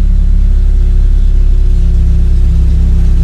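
A car engine idles steadily at low RPM while an engine flush additive circulates before an oil and filter change, giving a continuous close, loud rumble with no revving.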